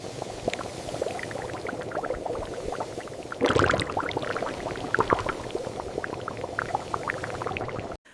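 Pasta water bubbling at a boil in a pot, with a steady pour of olive oil into it, a continuous close liquid churn that briefly swells louder midway before cutting off.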